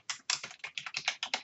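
Rapid, uneven keystrokes on a computer keyboard as a folder name is typed, about a dozen close, crisp clicks in quick succession with no voices.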